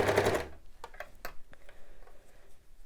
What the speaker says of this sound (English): we're going to pop that under our serger